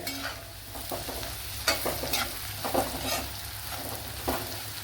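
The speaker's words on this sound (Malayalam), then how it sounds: "ഉണക്കമന്തിരി എടുത്തിട്ടുണ്ട് അതും കൂടെ ചേർത്ത് വിടുക" Raisins stir-fried in a pan with vegetables for a fish fried rice dish, giving a steady close sizzle under scraping stirs and a few sharper clinks of a spoon against the pan, with no talking.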